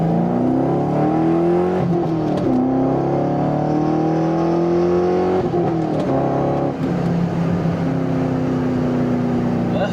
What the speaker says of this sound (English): Let's rev it up.